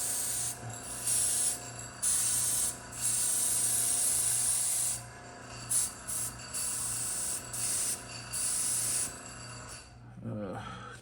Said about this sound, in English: And again, we'll spray off